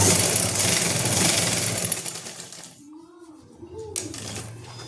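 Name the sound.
sewing machine stitching elastic onto a salwar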